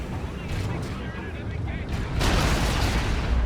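Heavy turret fire in the real-time strategy game Dawn of War 2, Imperial Guard against Tyranids, a steady rumble of booming shots and impacts under a dense battle din, swelling louder in the final second.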